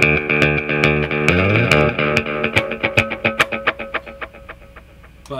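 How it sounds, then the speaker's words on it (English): A Binson Echorec echo unit producing a conventional delay sound: a sustained tone, then a train of evenly spaced repeats that fade gradually, loud and close. "so that's where you get the conventional delay sound."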